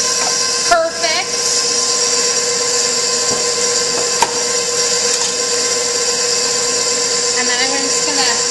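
Electric mixer beating yellow cake batter in a home kitchen, a continuous loud motor whir with brief bumps near the start, running steadily throughout.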